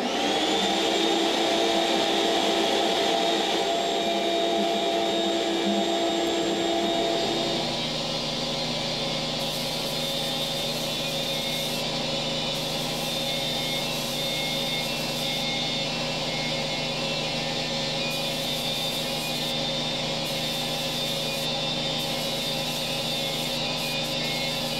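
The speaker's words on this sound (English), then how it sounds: "All right, so I'm through with blasting." Abrasive blasting inside a small home blast cabinet during surface preparation for Cerakote: a loud, continuous hissing roar that shifts after several seconds to a steadier, lower mechanical drone.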